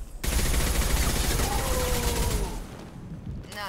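Sustained gunfire in the video game Mass Effect 2, a dense, loud fusillade of rapid shots that fades out toward the end, with faint game tones mixed in and no talking.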